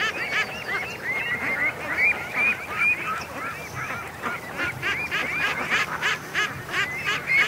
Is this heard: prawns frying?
no